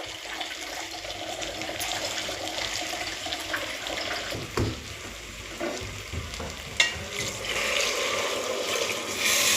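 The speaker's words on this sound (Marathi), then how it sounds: "आपण आता याच्यात पाणी टाकूया" Water is poured into a pan of rice being fried with masala, the liquid splashing and sizzling against the hot grains amid stirring scrapes, a close, steady hiss with a couple of sharper clatters and no voices.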